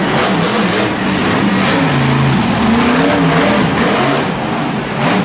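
Monster Jam monster truck driven by Damon Bradshaw at an Anaheim stadium show: a loud, continuous engine roar with rising and falling revs, heard over crowd and arena noise.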